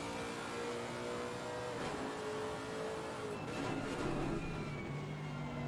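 Lexus GT race car engine in Assetto Corsa Competizione on the Zolder circuit, a steady loud drone that rises and shifts in pitch as it revs through gears, continuous for several seconds with no talk.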